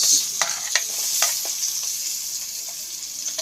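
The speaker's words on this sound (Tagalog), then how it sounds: "Saute muna natin na medyo lalabas yung pinakaamoy niya guys" Ginger and onion sautéing in a pan, a steady close sizzle with a few sharp clicks of a utensil stirring against the pan, no talking.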